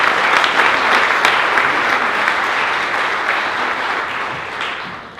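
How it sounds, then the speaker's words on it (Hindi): Loud, steady applause from an audience following a poem recital, dense clapping sustained throughout and fading slightly toward the end. "एक बार और जोरदार तालियां हो जाए"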